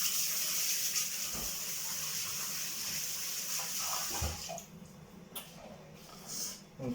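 A kitchen tap runs steadily with a hissing splash as hands are washed, then cuts off at about four and a half seconds, leaving faint drips and handling sounds.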